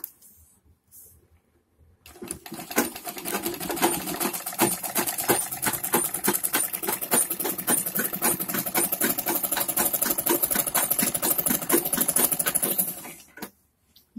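A sewing machine runs steadily for about eleven seconds, stitching closely spaced decorative lines on a full Patiala salwar, with a fast, even mechanical chatter after a brief quiet start.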